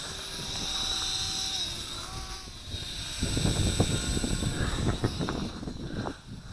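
Moontop M9916 micro drone flying outdoors, a thin high-pitched rotor whine holding steady at a distance, with gusty wind rumble buffeting underneath in the second half.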